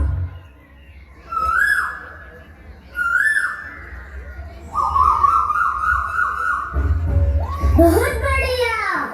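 A child whistles a rising, looping bird call imitating a koel, repeated several times in short bursts, with a few voices around.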